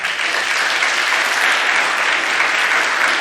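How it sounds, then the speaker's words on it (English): A crowd at a middle school awards ceremony applauds steadily for several seconds, an even wash of clapping with no voices over it. "Give the 7th graders your 3rd place league a round of applause"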